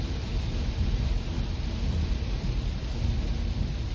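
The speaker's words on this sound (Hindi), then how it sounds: "और बढ़ गई बारिश भाई," Heavy monsoon rain beats on a Skoda Kushaq driving on an expressway, a dense, steady roar with a deep rumble from inside the cabin, with no talking.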